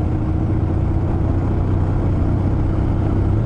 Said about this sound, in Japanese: 約2ヶ月ぶりにオートバイを動かしております